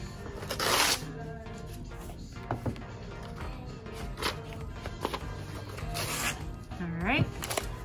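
Paper dust jackets being ripped off hardcover books, with repeated loud tearing rips and rustling, close by, while a person talks throughout.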